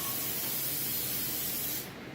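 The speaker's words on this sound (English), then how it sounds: "I just get like the Walmart brand, the butter flavor. But I fry my eggs in too. I really like it. And I'll spray this real quick" Butter-flavor Walmart-brand cooking spray hisses into a muffin pan for banana bread. The spray is one steady, close burst that cuts off near the end, with no talking.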